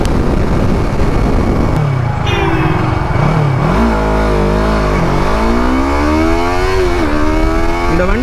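Yamaha YZF R3 inline twin-cylinder motorcycle engine revved hard toward 12,000 rpm, loud and close, with repeated climbing and falling rev sweeps over a steady idle burble.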